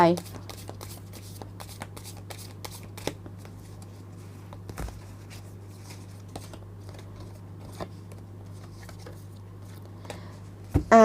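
Oracle cards being shuffled by hand, producing a series of soft crisp riffling ticks and taps at an irregular pace over a steady low hum, with occasional louder clicks.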